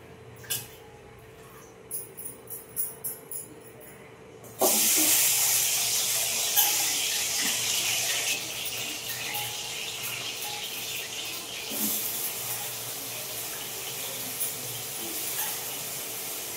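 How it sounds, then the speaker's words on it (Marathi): Water pours into a storage tank in a home kitchen, a steady broadband rushing hiss that starts abruptly partway through and carries on loudly, preceded by a few faint clinks. "आमच्या इथं पाणी आले आणि टाकीत पाणी पडतंय"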